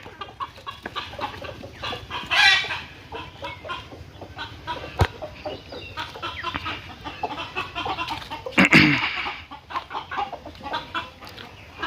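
Chickens on a poultry farm cluck steadily nearby, with a few louder squawks and scattered farmyard bird calls over a low background.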